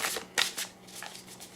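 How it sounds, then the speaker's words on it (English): Tarot cards are shuffled by hand in a few quick, crisp riffling bursts, close and fairly faint, alone without any talk. "And we're going to shuffle"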